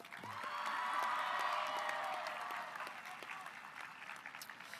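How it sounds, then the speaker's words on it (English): Graduation crowd at Reedley High School applauding and cheering for Mr. Campos, a faint, distant swell of clapping and whoops in a large venue that peaks early and then thins out. "Warm round of applause for Mr. Campos."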